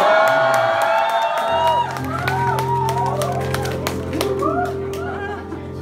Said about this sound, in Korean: 저를 위해서 이렇게 열심히 박수해 주셔서